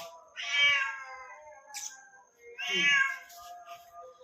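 A cat meows twice at close range, in two drawn-out, plaintive calls about two seconds apart, with a short, faint chirp between them in an otherwise quiet room.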